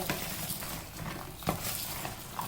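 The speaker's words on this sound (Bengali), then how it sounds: "এবার এই ক্রিস্পি চিকেন এর মধ্যে দিয়ে দিলাম আর খুব ভালো করে মিশিয়ে দেব" Crispy Korean-style fried chicken is tossed and stirred into hot sauce, giving wet, sticky squelches and light crackling taps with a few sharper knocks against the pan, close up.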